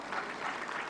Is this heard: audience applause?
yes